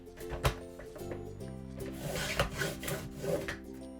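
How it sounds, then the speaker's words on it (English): Card base for a handmade card being trimmed on a paper trimmer, giving a sliding, rasping cut with a couple of knocks near the start, close and steady over about four seconds. "then I'll just trim up the card base"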